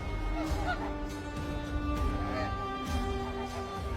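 Snow geese honk repeatedly in overlapping nasal calls, like a flock heard at moderate distance over a steady background.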